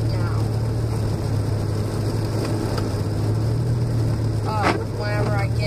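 Car interior on a drive home, with a steady low engine hum and road drone throughout, voices talking over it and a brief sharper sound near the end.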